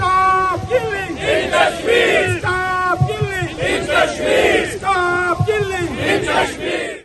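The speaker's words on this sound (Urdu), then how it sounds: "مظاہرین نے بھارت مخالف فلک شکاف نعرے لگائے۔" Protesters at a Kashmir solidarity demonstration in Italy chant loud anti-India slogans in unison, a crowd of voices rising and falling in repeated rhythmic bursts, close and continuous throughout.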